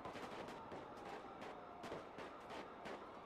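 Gunfire in a GTA V roleplay shootout on NoPixel: a faint, steady series of repeated shots in quick succession, with no other clear sounds.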